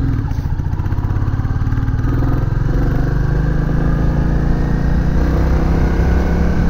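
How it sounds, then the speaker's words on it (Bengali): A Royal Enfield Bullet 350cc motorcycle engine idles with a steady, low, throbbing rumble, loud and close, running continuously without any talk. "এটা আমার মনে হয় একটা 350 সিসির বাইক"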